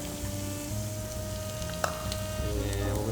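Red peppers, celery and onion sauté in a pan, giving a steady, moderate sizzle with a faint tonal hum and one sharp click partway through.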